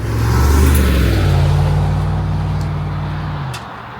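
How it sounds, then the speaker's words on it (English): A deep Range Rover SVR engine rumbles with a low, slightly muted exhaust drone, revving up briefly then holding a steady note before easing off. "the exhaust noise is slightly muted to my taste"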